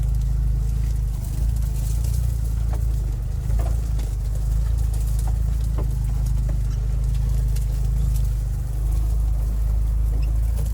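Jeep Wrangler grinding along a jungle trail through bushes, with a steady loud low engine rumble throughout and scattered brush scraping and rustling over it.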